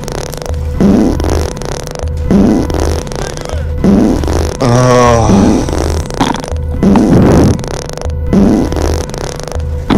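Repeated fart noises from another player's microphone during a Back 4 Blood match, loud rhythmic bursts about every second and a half, with one longer wavering blast in the middle.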